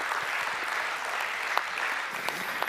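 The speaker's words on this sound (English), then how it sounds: "Give him a big hand of applause" An audience applauds steadily, a dense wash of clapping that holds evenly throughout.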